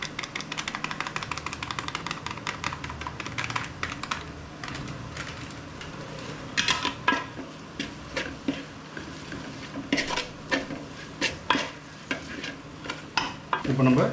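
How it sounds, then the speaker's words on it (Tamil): Chicken masala being stir-fried in a pan, with the spatula scraping and clattering in quick irregular strokes over a steady low sizzle, close and moderately loud, and no talking. "நல்லா மசாலா அப்படியே மூக்குற வரைக்கும் நல்லா பரட்டிடுவோம்"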